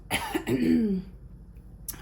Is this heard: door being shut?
no